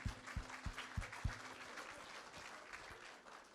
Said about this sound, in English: I give them a round of applause for fine work.